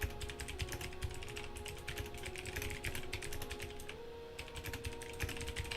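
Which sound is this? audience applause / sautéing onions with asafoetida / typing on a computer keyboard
typing on a computer keyboard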